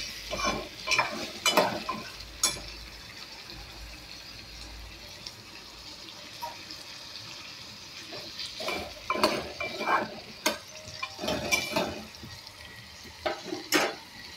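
Tomatoes sautéing in a pan for biranji rice, with quiet sizzling under repeated scrapes and stirs of a spoon against the pan, coming in short bursts.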